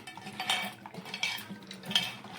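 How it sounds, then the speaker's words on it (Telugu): Green chilli chicken pieces being tossed and mixed with masala, made without red chilli powder, give a run of close scraping and clinking strokes against a vessel in an uneven rhythm, with no voices. "ఈ మొత్తం మ్యాక్స్ చేసేయాలి, శుభ్రంగా కలపాలి ముక్కకు పట్టేదాకా."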